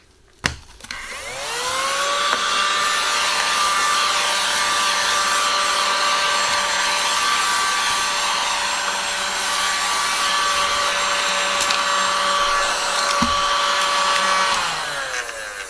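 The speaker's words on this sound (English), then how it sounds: "let's get the little vacuum cleaner out" Tiny handheld vacuum cleaner runs close up over a tabletop scattered with small bits from a scale model build, switching on with a click into a steady high whine that holds for about twelve seconds before powering down.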